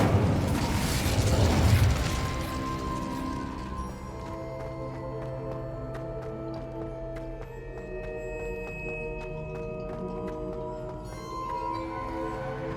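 An Incendio fire spell cast in Hogwarts Legacy erupts as a loud, roaring whoosh for about two seconds, then fades into calm tonal background music.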